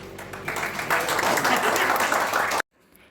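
A burst of clapping and applause fills a Women's Day celebration in an office, swelling quickly and holding for a couple of seconds before cutting off abruptly, with voices mixed in.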